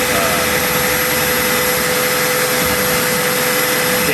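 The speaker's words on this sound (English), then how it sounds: "I have it in one to give it the DeWalt a little, extra torque, and then not crank the speed too much on the gearbox" A DeWalt drill set in first gear for torque drives a trailer gearbox and holds a steady, loud, continuous whine and roar close by, unbroken for the whole stretch.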